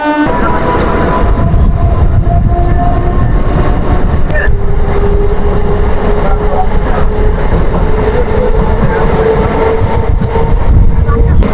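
A morning train rumbles steadily along the Howrah–Delhi main line toward Raniganj station, loud and close, with continuous rattling and clatter throughout.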